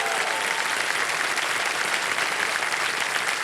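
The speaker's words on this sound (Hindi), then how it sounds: "ताली बज जाए उनके लिए।" Studio audience on a television quiz show applauding steadily, a dense close wash of clapping holding at even loudness for the whole stretch with no talking.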